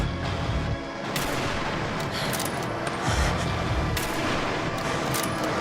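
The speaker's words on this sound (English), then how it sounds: "we are firing a 50 at them and they don't even know where I am yet" A .50 caliber gun firing in a video game, heavy booming shots over a dense, rumbling noise bed, with a few sharper reports standing out.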